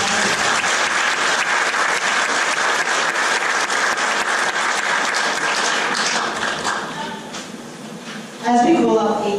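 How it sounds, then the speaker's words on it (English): Applause from the audience at a primary school Grade 6 graduation, a sustained, evenly dense clapping that thins out near the end before a voice starts speaking. "So let's give them a big clap before we get started."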